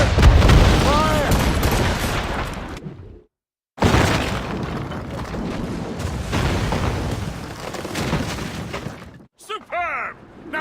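Broadside of ship cannons booming in Assassin's Creed Rogue, heavy repeated blasts rolling under shouted commands and battle chatter, cut by a brief silence before another loud volley.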